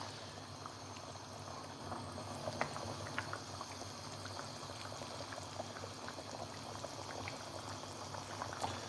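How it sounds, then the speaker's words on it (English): A pot of liquid on a stovetop heating toward a boil, with a steady bubbling simmer and scattered small pops throughout, moderately quiet and continuous with no talking. "I just need it to come to a boil"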